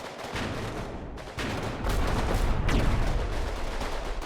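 Rapid gunfire from troops firing out of buildings in a nighttime Combat Mission Final Blitzkrieg battle, dense overlapping shots and bursts that pause briefly then resume louder and continuous.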